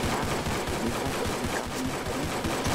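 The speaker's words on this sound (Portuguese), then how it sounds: "Teve um tiro ali." Gunfire in a video game: dense, rapid bursts of shots roll on without a break, loud and close, with no talk over them.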